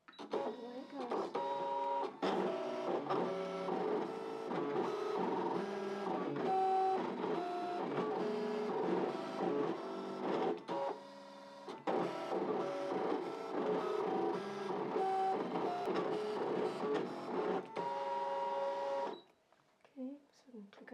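A Brother ScanNCut cutting machine works on a wall hanging project, giving a continuous mechanical whirring and buzzing with rhythmic stops and starts for most of the run before it falls quiet at the end.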